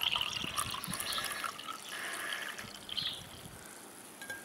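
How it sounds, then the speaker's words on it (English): Water poured into 1.5% fat milk in a container, a steady close trickle and splash lasting a few seconds. "So I've added some water"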